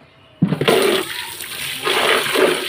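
Water gushing and splashing while an oil can is washed, starting abruptly after a quiet moment and continuing as a loud, close, steady rush with swirling surges.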